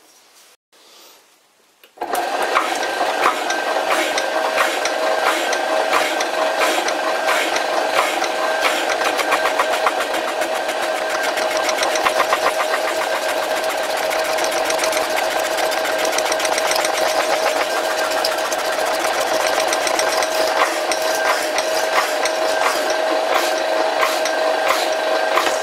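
Metal stock being cut on an old sliding-spindle lathe in a workshop: the machine starts after a brief quiet moment, then runs as a steady, loud, close whirring drone with a fine rapid ticking texture throughout.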